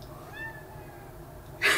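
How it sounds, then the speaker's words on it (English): A cat gives one soft, fairly faint meow indoors in a quiet room, followed by a brief louder rustle or noise at the end. "So we got one meow."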